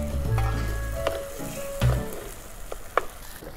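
Washed chicken sizzling as it goes into a biryani pot at an outdoor cooking setup, a steady frying hiss with a few louder stirring scrapes and clanks close by.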